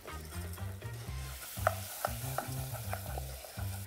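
Rice toasting in butter in a pan for a dandelion and gorgonzola risotto, sizzling steadily while a spoon stirs it in repeated scraping strokes, close and fairly quiet, with no voices.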